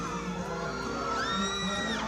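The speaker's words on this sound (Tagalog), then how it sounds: "Dumadagundong ang hiyawan kapag nakakadaupang palad ang paboritong GMA stars" A crowd of fans screams, whoops and cheers for GMA Kapuso stars at a lively regional fan event. The roar is dense and sustained, with shrill whoops rising above it.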